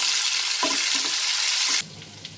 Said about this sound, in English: on a high flame I am going to fry these cauliflowers